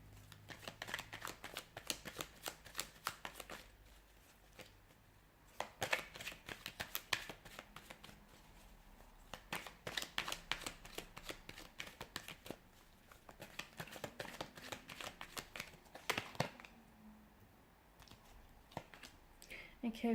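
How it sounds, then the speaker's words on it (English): Tarot cards are shuffled in repeated bursts of soft riffling and flicking, close up, with brief pauses between rounds and faint talking at times. "So we'll give the cards a shuffle and see what's coming in for you"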